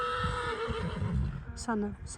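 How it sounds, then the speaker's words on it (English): A horse whinnies at a horse show, a short neigh near the end over a busy, steady background of an indoor arena crowd with people talking. "So really loads of lovely horses in here."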